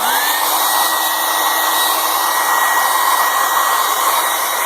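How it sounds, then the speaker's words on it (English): A hair dryer on high heat blows steadily and loudly at close range, a constant whirring rush of air with a high motor whine, no voices. "then we take a hairdryer"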